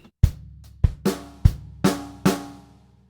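A drum kit plays a funk groove from a Trinity Grade 3 piece: six crisp, close strokes of hi-hat and snare struck together, an even eighth-note pattern over about three seconds, with no voices.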